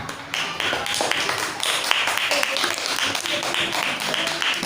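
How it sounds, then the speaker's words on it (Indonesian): Classroom students clap for a group in a cooperative-learning lesson, a busy run of many hands slapping with scattered sharp taps, fairly close and continuous, mixed with some voices. "Kita berikan tepuk tangan dulu untuk kelompok 3."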